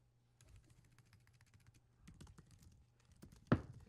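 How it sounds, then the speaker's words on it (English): A computer keyboard clatters with rapid, quiet typing in irregular bursts, ending with a sharper louder thump, all close and without talk. "I started typing what I was saying accidentally"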